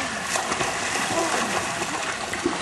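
At an outdoor swimming pool, water splashes and sloshes continuously as people jump in and swim nearby, with voices and chatter mixed in throughout.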